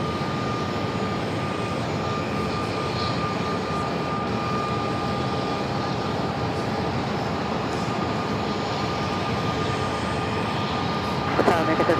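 A jet airliner at Phoenix airport rumbles in a broad, continuous engine roar with a faint steady whine riding on top, fairly close and unbroken, and a slight swell near the end.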